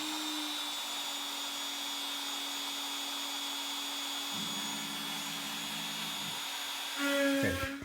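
A CNC router cutting plywood runs with a Suck It dust boot and shop vacuum attached, giving a steady, loud whine and hum throughout, with a change in tone partway and a brief louder burst near the end.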